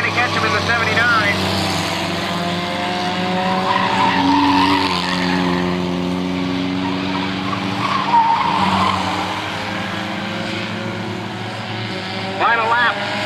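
Stock cars race around a track with engines droning loudly and steadily, pitch rising and falling as they pass, while an announcer talks over the noise throughout.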